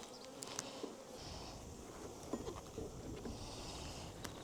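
Honey bees drone steadily around an open hive, a dense, faint buzzing swarm with a few louder individual bees passing close.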